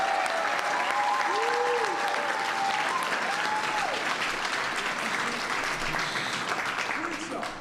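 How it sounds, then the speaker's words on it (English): A crowd claps steadily for an education chairwoman at a Chicago mayoral press event, the applause holding evenly throughout while a sustained tone and murmuring voices sit underneath. "I want y'all to clap your hands for none other than Jeanette Taylor"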